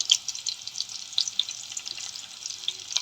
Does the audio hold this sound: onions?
yes